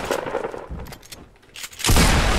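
Rocket launcher fire in Fortnite: a rumbling, noisy stretch ending in a sudden loud broadband blast that swells and holds near the end.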